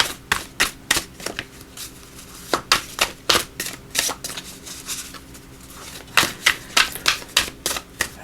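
Chinese fortune reading cards being shuffled by hand, a series of crisp riffling and slapping bursts in irregular clusters, close and fairly loud with short pauses between runs.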